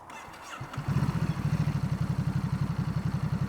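A 2024 Ducati Supersport 950 S cranks briefly, then fires and settles into a close, loud, lumpy idle with a steady pulsing twin-cylinder beat, and no talk over it.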